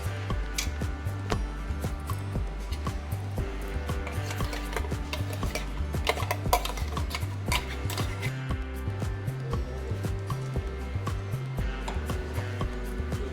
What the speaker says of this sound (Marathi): आता हे चांगलं मिक्स करणार आहोत